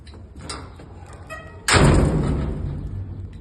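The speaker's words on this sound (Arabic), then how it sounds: "اول ما بتسمع صوت خبط الباب ده بتعرف ان انا ايه وصلت" Someone bangs on a house door from outside, a sudden loud heavy thud that rings out and then trails off into a lingering rumble.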